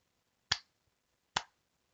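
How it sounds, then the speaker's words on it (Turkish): Two sharp hand claps about a second apart, close and alone in a quiet room, struck to test a microphone. "El çırpayım bakalım."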